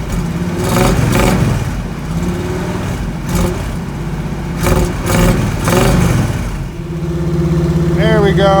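An old Squarebody Chevy truck engine runs loud and rough, its revs rising and dipping unevenly as it settles toward idle, with voices talking over it near the end.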